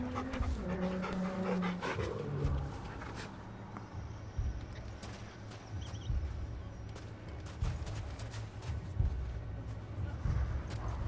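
A dog pants steadily in Final Fantasy 16, with a rhythmic, quick breathing loop under game ambience, clicks and occasional footstep-like thuds.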